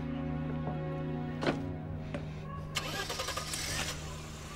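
A car engine cranks and starts, a few sharp clicks and a catch followed by a rising mid-pitched rumble that settles into a running idle, heard close over a low steady hum.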